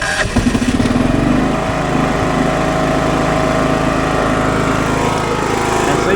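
A John Deere GT 275 lawn tractor engine runs with the choke on, a loud, close, steady buzzing drone with a rapid rough pulse throughout and no break.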